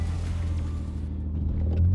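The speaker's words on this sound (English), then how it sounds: "All right, here goes the stock launch." A stock sports car launching from a standstill to 60, its engine rumbling low and steady up close, with a deeper surge building at the very end.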